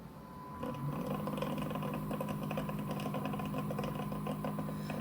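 A Dreame robot mop station washing its mop kicks in with steady mechanical whirring and rattling after a brief quiet moment and runs continuously, fairly close, with no talking.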